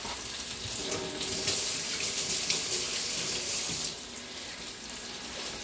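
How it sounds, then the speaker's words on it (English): Tap water runs steadily into a sink while hands are washed, a close, continuous splashing hiss that lightens briefly near the end. "Let me wash my hands."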